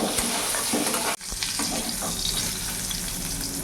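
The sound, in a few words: pointed gourd frying in oil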